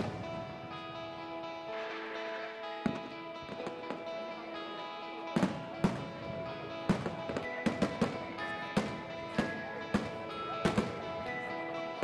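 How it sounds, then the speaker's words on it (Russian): Fireworks crackle and bang in irregular bursts over a steady droning tone at a grand fireworks display in Bilbao, with sharp pops scattered through the second half. "В финале большой недели Бильбао проходит грандиозный парад фейерверков."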